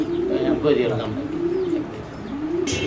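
Pigeons cooing at a pigeon seller's stall, a close, low, rolling coo that continues through the clip, with a brief flutter near the end.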